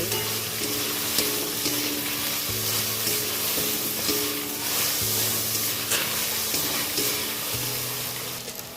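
Jujubes fry for a sweet-sour pickle, sizzling loud and steady in hot oil with a continuous crackle and small bursting pops.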